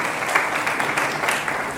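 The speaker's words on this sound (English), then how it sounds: "Please have a big round of applause for him." Audience in a lecture hall at an Aligarh Muslim University inaugural lecture session clap for an honoured professor, a dense, even burst of applause from many hands throughout, moderately loud and without voices standing out.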